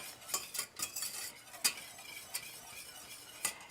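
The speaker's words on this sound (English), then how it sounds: "Just stir. So you don't have any lumps." A spoon stirring milk sauce in a pot for crab macaroni and cheese, with quick, light clinks and scrapes against the metal over a faint simmer, no voices.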